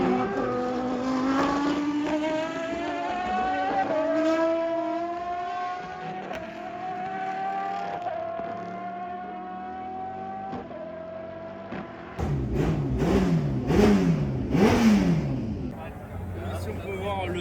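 A six-cylinder classic race car engine at the Le Mans Classic revs upward in long, smooth climbing pulls, then gives way to louder, rougher bursts of engine noise with people talking nearby.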